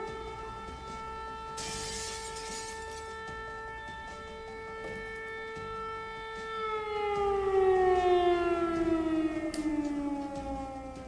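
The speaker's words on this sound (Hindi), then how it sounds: "there is an air raid siren going on" A civil defense air raid siren wails in Ukraine during wartime, holding a long steady tone for several seconds before swelling louder and sliding down in pitch, heard at a distance.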